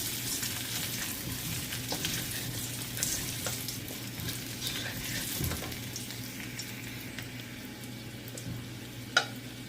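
Ginger is stirred into hot oil in a pan with a steady, moderate sizzle and soft scraping of a utensil, plus one sharp tap near the end.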